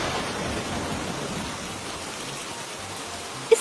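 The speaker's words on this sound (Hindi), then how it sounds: "इस बारिश ने क्या कर दिया आज?" Steady rain falls in a continuous soft hiss of drops, fairly faint and even throughout, with no voices.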